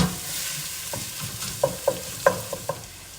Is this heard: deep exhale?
no